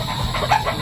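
Chickens on a rural property in the Philippines give a brief, fairly loud cluck or squawk, a single short call lasting under a second with no voices.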